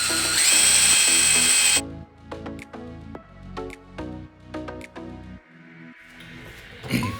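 A power drill with a 3/16-inch bit whines at high speed, then bites with a run of short grinding bursts as the bit struggles through a metal vehicle frame.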